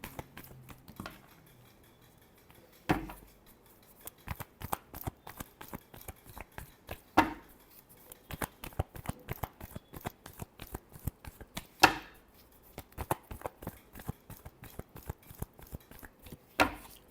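Tarot cards shuffled by hand at close range in a quiet room, a rapid run of crisp riffling flicks broken by a few sharper slaps as the deck is squared.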